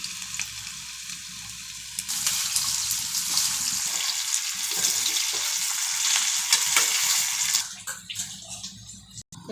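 A few small potatoes fry in plenty of oil in a pan, a loud, dense sizzle that swells after a quieter start and then breaks off near the end, with no talking.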